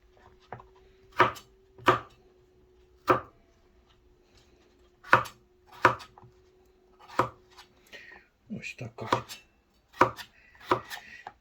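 A knife chops potatoes on a board for a borscht made with sauerkraut, giving sharp single thuds at an uneven steady pace, then a quicker cluster of cuts toward the end, close and clear with no talk.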